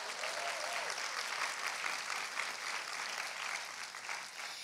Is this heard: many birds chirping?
no